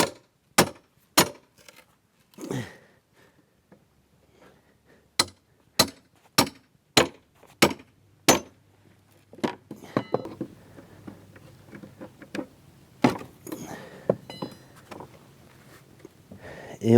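Sharp wooden knocks and cracks from a nail puller working nails out of a two-way wooden pallet with beams underneath, struck in quick bursts with pauses between, followed by scraping and creaking of the boards, close and fairly loud.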